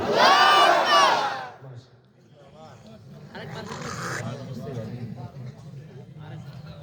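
A large crowd at an outdoor religious gathering in Boyra, Chhatiloni, Panchbibi, Joypurhat answers a call for takbir. One loud voice calls first, then many voices roar back together in a long, rumbling collective shout.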